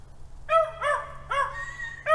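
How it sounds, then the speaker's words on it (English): Several sharp, tonal barks from a dog at moderate distance, coming in three or four bursts over a steady low hum. "I don't know why them dogs are barking like that."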